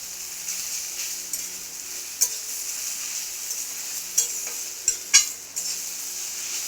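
Jute leaves frying in a pan give a steady, close sizzling hiss that runs throughout, broken by a few sharp clinks and scrapes of a spoon stirring.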